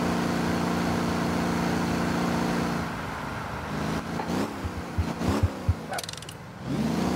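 A car engine in the driving game Motor Town holds a steady drone, then drops off and revs again in short uneven bursts before climbing back up.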